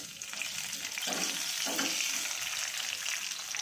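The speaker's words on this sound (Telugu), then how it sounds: "మంచిగా తాలింపు పెట్టుకోవాలి." Mustard seeds, dried red chillies, garlic, curry leaves and cumin sizzle in hot oil for an Andhra-style pappucharu tempering, a steady close crackling hiss with a couple of louder stirs.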